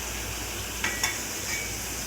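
Gourd tamarind curry is stirred inside the cooking pot, a low steady simmering hiss with two or three faint spoon scrapes against the vessel.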